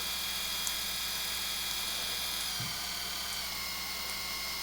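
Electric facial grooming shaver with adjustable speed from 6,500 to 7,500 RPM runs steadily at close range, giving an even, high-pitched whine with faint mains-like hum throughout, alone without talk.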